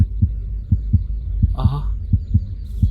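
In a Minecraft horror game, a pounding heartbeat effect repeats as deep, steady thuds at a quick pace, with a short spoken exclamation from a man partway through.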